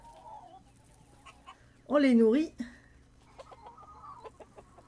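Chickens in the farming game Dinkum give a loud, brief run of clucking at mid-clip, with a few quieter calls afterward, while someone talks softly over light background music.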